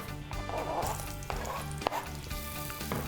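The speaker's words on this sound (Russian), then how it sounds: "параллельно у нас сковорода уже нагрелась. Выкладываем лук" Onions hit a preheated frying pan and sizzle loudly and continuously, a close, crackling hiss with a few sharp pops and clatters from the pan.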